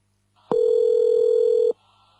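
A single steady telephone line tone plays as a call is connected to an office extension at a computer company. It is a clean, loud, pure hum lasting just over a second and stops abruptly, with faint background noise on either side.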